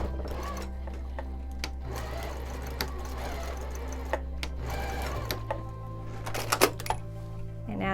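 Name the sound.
sewing machine stitching scrunchie fabric ends together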